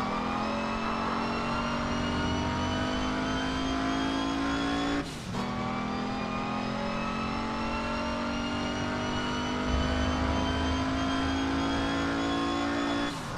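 A car driving in APB Reloaded, its engine holding a steady droning hum with a brief dip mid-run and a slight rise later, running alone without talk.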